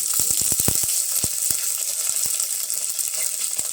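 Garlic and curry leaves sizzle steadily while roasting in a hot pan, a dense continuous crackle punctuated by sharp pops and spits.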